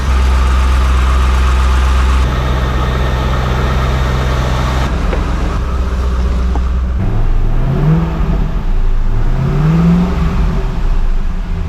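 A Corvette C5 Z06 V8 idles loudly up close, a steady deep rumble whose tone shifts partway through as the idle settles and dips slightly.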